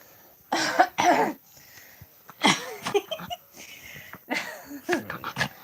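Silver, a playful pet dog, snuffles and sniffs at a hand in a quiet room, giving short, sharp bursts of breathy snorts and snuffles with brief pauses between them, close to the microphone.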